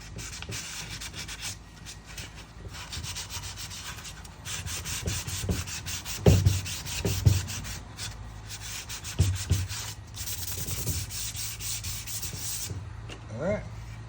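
220-grit sandpaper scrubs inside the slots of a wooden knife block in steady back-and-forth strokes, close and fairly soft, with a few louder knocks and rubs partway through.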